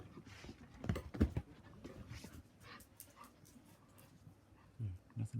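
A puppy yips and whimpers in a home while people talk over it, with faint high whines and short, soft yips under the voices, close but quiet.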